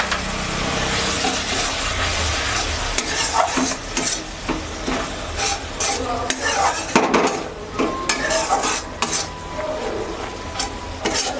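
Spices sizzle and fry in a pan with a splash of water for a spicy chanda fish curry, with steady stirring and scraping of a utensil against the pan running throughout, close and fairly loud, with no talking.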